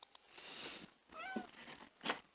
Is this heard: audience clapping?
no